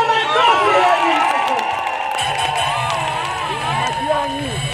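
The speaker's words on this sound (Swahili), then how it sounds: "Apigiwe makofi Edwin" A rally crowd claps and cheers for Edwin Sifuna at a Kenyan political gathering, a dense steady wash of applause and shouting with voices over it throughout.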